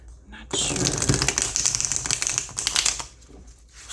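A tarot deck with thin cardstock is shuffled by hand at close range, a sustained crisp riffling and flapping that runs for a few seconds before tapering off.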